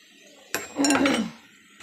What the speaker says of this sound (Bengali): এবার আমি এটাকে মিক্সড করে নিচ্ছি।